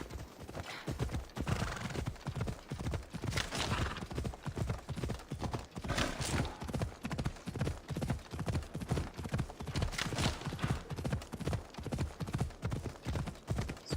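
A horse galloping in Assassin's Creed Odyssey, loud rapid hoofbeats in an unbroken rhythm for the whole stretch, with a neigh mixed in and no talk.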